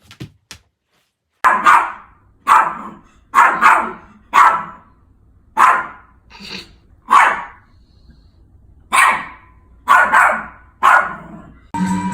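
A puppy barks in a house on a homestead, about a dozen sharp, loud barks and yips in uneven bursts with short pauses between, close by and alone without talk.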